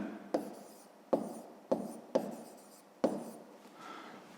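A pen scratches out a math solution for a fifth-grade exercise: five quick, distinct strokes at a steady pace, close and fairly quiet, with no talking over them.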